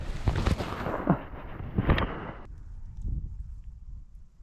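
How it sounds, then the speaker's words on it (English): Lake ice cracking and popping in freezing cold after a temperature drop on a frozen lake, a few sharp, booming cracks and thuds spread over several seconds, fairly loud, then fading to quiet. "The temperature really dropped and you can just hear the ice cracking and popping"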